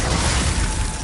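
A Glacius ice spell in Hogwarts Legacy sounds as a loud, dense crackling burst with a rough, shattering texture over a low rumble, lasting about a second.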